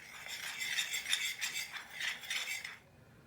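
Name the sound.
mixing chicken pakora batter with spices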